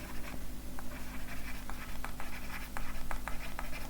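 Differentiation formulas being written on a board, with a steady run of short scratchy strokes close by over a low background hum.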